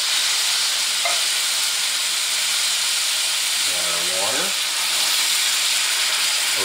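Undrained canned tomatoes hit a pan of hot onions for shrimp creole, raising a loud, even sizzle and steamy hiss that holds throughout, with a short burst of talking partway through.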